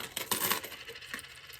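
Coins being sorted clatter and jingle as they drop, with several quick metallic clinks in a short, close burst that trails off into a few scattered taps.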